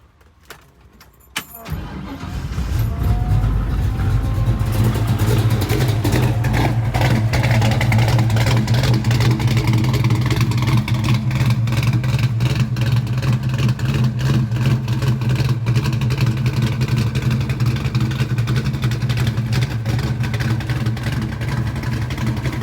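Car fitted with Spintech mufflers: keys jangle, the starter cranks, and the engine catches into a loud, deep exhaust drone that holds steady with light revving throughout, close and without talk.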